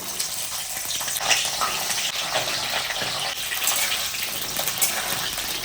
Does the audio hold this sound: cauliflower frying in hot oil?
yes